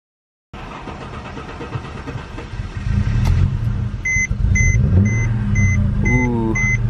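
A Mercedes-Benz C300 engine idles roughly with a steady low rattle, joined partway through by a loud rumble and repeated electronic beeps from the dashboard.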